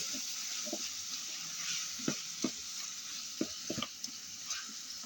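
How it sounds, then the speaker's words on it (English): Spoon stirring curry powder into a stew of French beans, carrots, potatoes and meat, a soft continuous sizzle with several scraping knocks against the pot in the second half, no voices. "Then we stir. We stir the meal."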